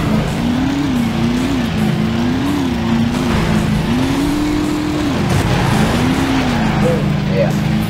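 Racing-game car engine droning steadily throughout, pitch rising and falling as it brakes and slides, with a faint skid under constant engine noise.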